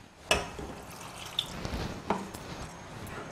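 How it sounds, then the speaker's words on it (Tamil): Water splashes and drips into a pan of peas masala gravy with coriander powder in a few brief bursts, with a soft wet trickle between them, close by. "கொஞ்சம் தண்ணி ஊற்றிக்கலாம் நம்ம."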